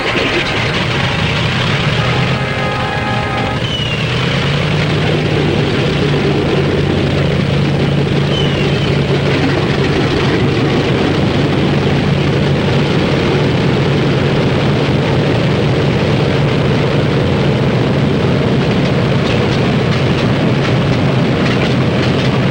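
Several WWII bomber aircraft engines start up and settle into a loud, steady, droning roar, with a low continuous rumble that carries through to the end without a break.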